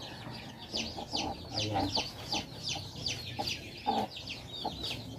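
A hen clucks steadily close by on a farm, with high peeping from newly hatched chicks running through, and a person speaks briefly over the birds.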